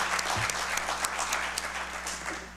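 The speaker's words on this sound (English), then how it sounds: "How about a round of applause for our candidates?" Steady applause from an audience at a school district candidate forum, dense and even clapping that fills the whole stretch with no voices standing out.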